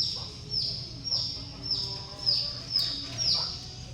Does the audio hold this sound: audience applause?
no